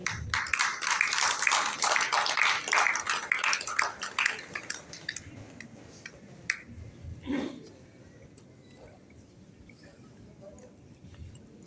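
An audience at a consumer protection awareness association's anniversary award ceremony breaks into dense applause that thins into a few scattered claps and dies away after about seven seconds, followed by quiet room tone.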